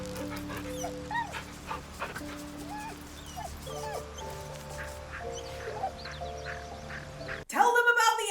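Scratch the dog, a video game dog, whimpers and makes short yelps in a game scene with a soft tonal background. Someone speaks throughout, and a sharp burst near the end louder than the rest.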